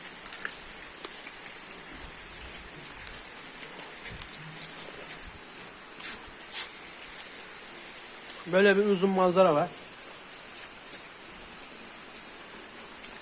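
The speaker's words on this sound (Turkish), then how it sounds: "Yağmurun altında." Rain falling steadily outdoors, a soft patter with scattered drops close by, while someone speaks Turkish briefly near the end.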